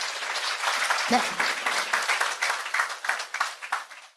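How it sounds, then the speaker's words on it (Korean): Audience applause at a business seminar lecture, dense steady clapping from a crowd for about four seconds, with a single brief spoken word near the start. "큰 박수 치고 시작하도록 하겠습니다."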